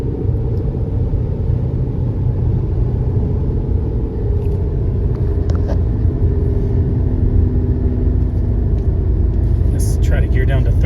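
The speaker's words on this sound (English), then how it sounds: "I love the sound of a 5-cylinder engine" Steady, loud engine drone from a 2009 Volkswagen Jetta SE Sport 5-speed with a five-cylinder engine while driving, a continuous low rumble throughout, with speech likely mixed underneath.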